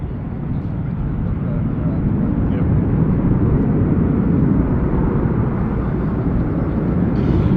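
Red Arrows jets rolling in Lancaster formation at the Miramar airshow, a loud, steady broadband engine roar that fills the whole stretch without breaks.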